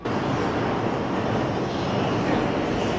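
A constant, loud roar of wind rushing through a swaying cable car gondola with windows open at the top, broadband and unbroken, high above ground.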